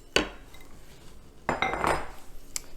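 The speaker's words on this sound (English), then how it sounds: "here are our mushrooms, which have been reconstituted. I'm going to add those to my pan" Reconstituted oyster mushrooms go into an electric skillet with a couple of sharp metallic clinks and a short clatter of a utensil against the pan, fairly quiet and close, without speech.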